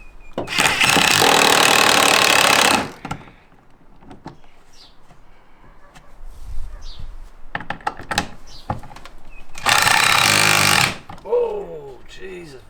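Power drill running in a home garage, two loud sustained bursts of a few seconds each, separated by quieter rattling and handling noises.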